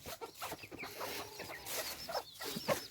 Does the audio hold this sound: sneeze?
no